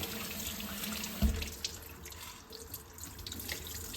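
Corn grains are washed in water for a cold corn kozhe drink, with soft sloshing and running water, one brief heavier splash and a few light drips, quiet and close.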